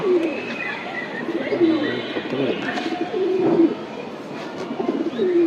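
A tournament racing pigeon coos in several rolling low phrases spaced a second or two apart, close by over a busy background.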